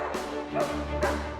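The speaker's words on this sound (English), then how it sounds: "A canine choir was howling at the moon" Dogs accompany a chamber orchestra's performance of the Hunting Symphony in a group of canine voices, three rising howling calls sounding over sustained orchestral tones at moderate volume.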